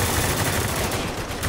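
Heavy gunfire in Spec Ops: The Line, a dense, continuous barrage of rapid automatic shots, loud and close, filling the whole moment without a break.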